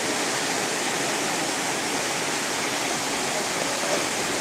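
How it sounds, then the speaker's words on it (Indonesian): Heavy rain pours steadily over the open Sungai Sari stadium during a Liga 3 West Sumatra football match, a dense, even broadband hiss that stays loud and unbroken throughout with no voices on top. "Hujan semakin lebat"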